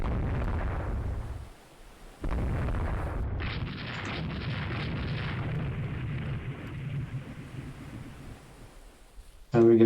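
Shell impacts and booming gunfire in the naval video game Rule the Waves 3, with a heavy rumbling blast, a short drop to quiet, then sustained roaring battle noise and a sharp final hit.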